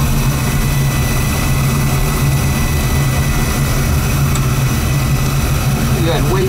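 A Beckett oil burner fires up and runs with a loud, steady low roar and hum, a continuous droning rumble close by with no pauses.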